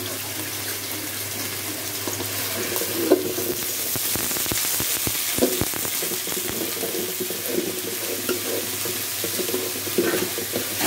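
Ginger and garlic sizzle in a pan for a chicken and potato curry, a constant hiss broken by clattering bursts of stirring near the middle, with no one talking.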